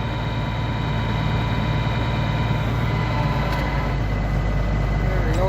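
A tractor engine idles steadily through a cold Canadian winter morning as it warms up, a constant low rumble with a droning hum, loud and close, with a faint voice in the background.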